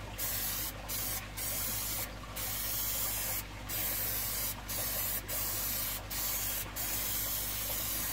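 Matte black spray paint hissing onto an aquarium background in a series of short and longer bursts separated by brief pauses, close and steady, with no talking.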